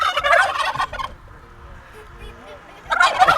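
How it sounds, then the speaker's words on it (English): Wild turkeys in Wyoming let out loud, close gobbling calls, one burst at the start and another near the end, with a quieter stretch between. "They're turkeys, all right."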